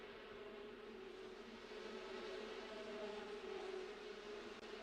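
Steady, continuous buzzing of bees from The Sims 4 life-simulation game, a dense droning hum held at an even level throughout, with no talking.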